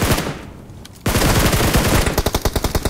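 Rapid automatic gunfire from a shooter video game, with a sustained burst of loud bursts that drops off briefly, then surges back into a dense rattle ending in distinct rhythmic shots.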